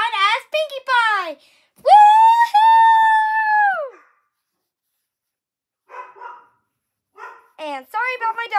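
A dog barks and yelps in a rapid string of sharp, high, close barks, then a long drawn-out howl-like bark, a pause of silence, and more barking near the end.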